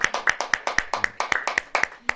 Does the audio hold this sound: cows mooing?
no